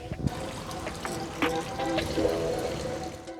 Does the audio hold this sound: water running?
yes